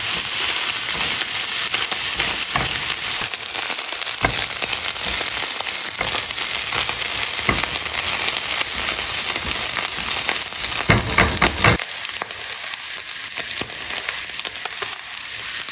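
Milkfish (bangus) sisig with onion and salt toasting in a pan makes a continuous loud sizzle and crackle with scattered scraping and stirring, close-up and without speech.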